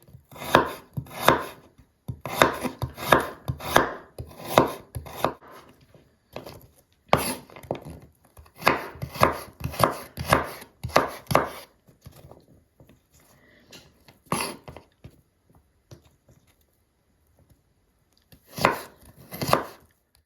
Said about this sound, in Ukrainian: Я зараз буду дрібненько нарізати моркву